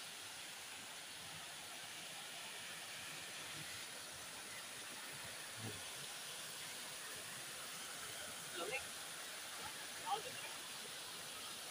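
Trinity Falls waterfall in Bulacan pours as a steady, broad hiss of rushing water from nearby, continuous throughout, with a few faint bumps and voices barely audible beneath it.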